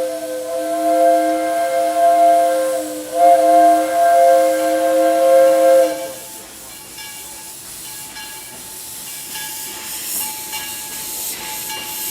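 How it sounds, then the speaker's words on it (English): A Disneyland Railroad steam locomotive sounds a long, loud chime whistle in two blasts for about six seconds, then steam hisses steadily with faint rumbling. "Now, this was Disney's favorite locomotive"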